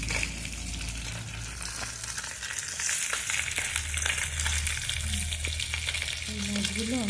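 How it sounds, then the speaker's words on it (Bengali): Turmeric-coated koi fish fry in hot oil in a pan, a dense, steady close sizzle with scraping stirs and occasional splashes, with no voices. "কই মাছগুলো আমি আগে সুন্দর করে ভেজে নিচ্ছি।"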